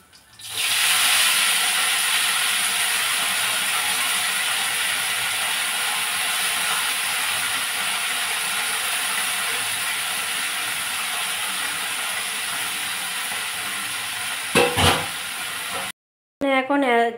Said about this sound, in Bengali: তো চলো শাকটা ভেজে নিই